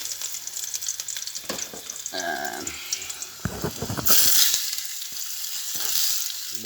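Sardines sautéing in a pan, hissing and sizzling in bursts alongside clatter of stirring and a running tap, with a louder flare of sizzle midway.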